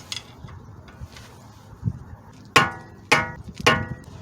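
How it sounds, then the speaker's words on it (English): A punch is struck with a hammer against the axle nut on a Toyota Sienna to lock it in place, three sharp ringing metallic blows close together near the end after some soft handling noise, no voices. "I still gotta punch it here a little bit so it can lock in place"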